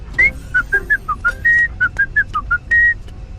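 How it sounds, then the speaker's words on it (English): A cartoon robot whistles a tune in a gym, a bright string of short, clear whistled notes with a couple of longer held ones, close and steady. "Bot was whistling a tune."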